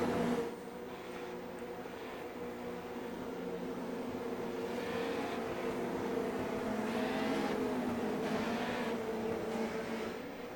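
A pack of race cars circles the track in a racing game as a continuous buzzing engine drone, swelling and fading as cars pass at middle distance, with no voices.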